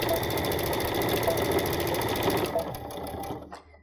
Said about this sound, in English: I'm just going to stitch across this side seam